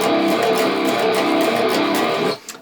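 Distorted electric guitar chugs through the verse riff of a song, played on the open low two strings with loud, dense chords that stop abruptly near the end, leaving a brief faint tail.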